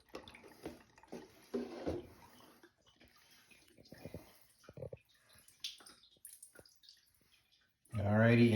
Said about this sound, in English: So we'll put water in the tank,